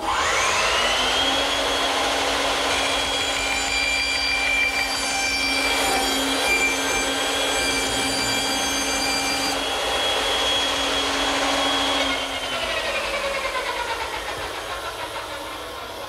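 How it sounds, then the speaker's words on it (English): A saw cuts a circle in a plywood blank fixed to scrap plywood and swung around a radius pin, a loud steady whine with a sustained high tone spinning down near the end, no talking. "I can now place it over the radius pin and make the first cut."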